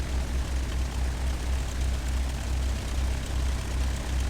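A video game aircraft engine roars at full throttle for takeoff, a steady loud low drone with a constant rumbling hum and no break throughout.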